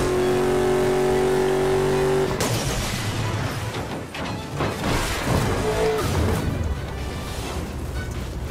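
A car in the video game Burnout Paradise revs through a tunnel and smashes into a truck, with a steady loud engine drone broken by an abrupt crash and scraping impacts afterward.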